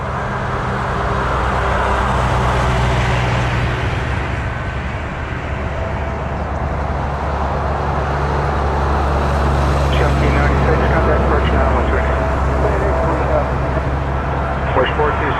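A jet takes off from runway 23 at Toronto Pearson, a steady, broad engine roar that holds loud and continuous throughout, with air traffic control radio chatter over it.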